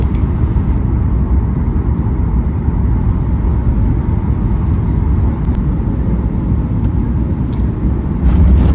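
Steady broadband cabin rumble inside an airliner landing on a Bengaluru to Oman flight, loud and continuous with no talk, a slight swell near the end.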